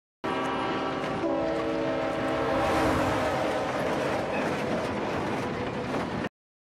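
A train in The Wire passes with a loud sustained horn blast over rumbling wheels and clatter, filling about six seconds before cutting off abruptly.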